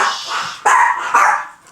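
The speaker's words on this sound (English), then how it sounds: "These dogs are barking" Dogs bark at home during winter storm preparations, a few sharp close barks with yips in between, loud and separated by short pauses, with no one talking.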